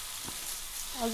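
Uttapam batter sizzling and frying on a hot pan, a steady low hiss filling the clip while a faint voice begins near the end.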